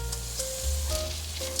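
Washed white rice stir-fried in a pan with white pepper and salt over medium-high heat, a soft continuous sizzle with faint tonal hums and light scraping stirs.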